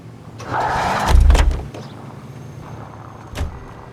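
A car commandeered in L.A. Noire, its engine catching with a brief low rumble and a whine from the bodywork, followed by a door-like clunk and a quieter later thump.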